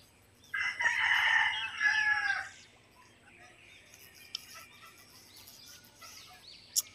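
Loose farmyard chickens at a rural backyard, with one rooster crowing loudly and close for about two seconds, followed by faint scattered clucks and chirps over quiet outdoor ambience.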